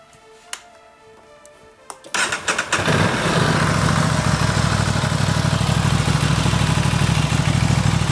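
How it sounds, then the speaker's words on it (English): A motorcycle that has been sitting on a garage lift is started: a few clicks, a brief crank, then the engine catches and settles into a loud, steady, throbbing idle to warm up. "it's time to turn the bike on again so that it warms back up because it's been sitting on the lift"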